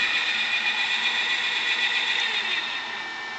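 A large Maxon gearmotor with a 20.25:1 gear reduction, running on 24 volts DC, keeps up a steady high-pitched mechanical whine with faint rattling under it. The whine drops slightly in level near the end.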